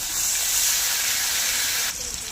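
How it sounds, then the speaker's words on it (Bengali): Ground spice paste, stone-ground on a grinding slab, hitting hot tempered oil for a fish curry: a loud, close, broad sizzling hiss that holds steady and then drops in level near the end. "যে মশলাটা শিলপাটায় বেটে নিয়েছিলাম সেটা ফোড়ন দেওয়া তেলে দিয়ে দেবো"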